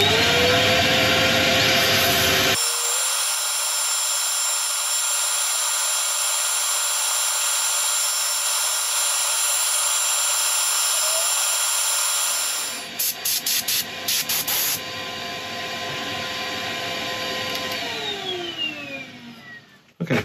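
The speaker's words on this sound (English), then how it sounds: "I'll set up for sanding." A sycamore burl being sanded on a woodturning lathe gives a loud, continuous whirring roar. It shifts abruptly in tone partway through, then gives several brief stuttering breaks before continuing.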